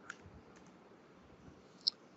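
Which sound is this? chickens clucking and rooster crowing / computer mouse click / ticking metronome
computer mouse click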